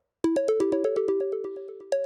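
An electronic phone ringtone plays a rapid run of bright repeated tones in a quick pulsing pattern, close and loud, then a fresh burst starts just as it ends.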